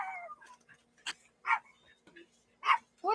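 A small dog in a home barks in short, sharp yips spaced irregularly, with faint whimpery sounds between the louder barks.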